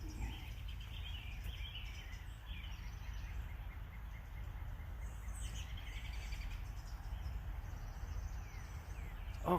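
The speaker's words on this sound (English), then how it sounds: "All kinds of bird sounds right here." Birds call along a stream trail, with faint, scattered chirps over a steady low rush of flowing water and a soft outdoor hum.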